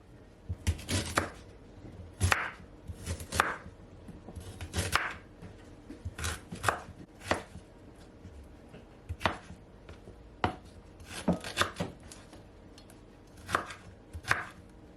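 A knife chops fresh ginger on a cutting board in crisp, close, irregular strokes, some single and some in quick bursts, with short pauses between and no talking.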